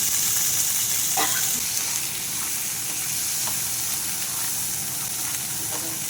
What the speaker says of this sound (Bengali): গাজর আর মটরশুঁটি ভাজা ভাজা হয়ে এসছে